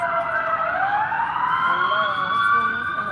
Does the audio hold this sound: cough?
no